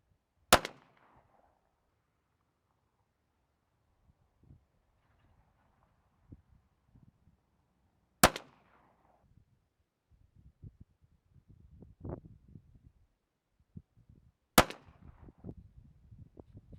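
Three sharp Glock 9mm pistol shots fired at a target outdoors, spaced several seconds apart, loud and close, with faint shuffling and handling noises between them.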